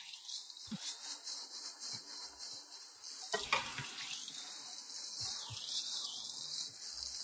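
Stuck-on food is scrubbed off a cooking pan with soapy water: a rough, rhythmic rubbing and scraping that runs steadily throughout, close up and fairly loud, with a thin high tone sustained behind it.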